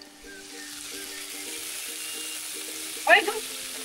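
Food fries in a pan with a low steady sizzle under a faint hum, broken near the end by a brief louder clatter, with no one speaking.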